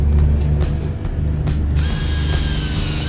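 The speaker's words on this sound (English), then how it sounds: "take the drill, and we're going to go forward for the first part" A power drill grinds and whirs continuously through PVC pipe, with ratcheting mechanical clatter and a rising whine in the second half, loud and close.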